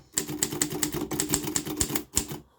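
A 1947 Underwood Universal manual typewriter typing: a steady run of crisp key strikes with clacking mechanism, a short pause, then a few more strikes, close and clear with no talk.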